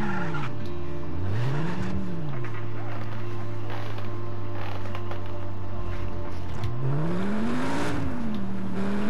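In Just Cause 3, a game car's engine hums and revs up and down with tire squeal as the car drives, a continuous loud drone over a busy background of game effects.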